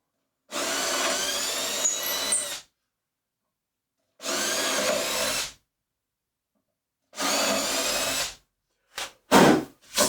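A power drill bores through a pilot hole in wood in three close, loud bursts of whining motor and grinding bit separated by pauses, followed by a couple of brief short runs.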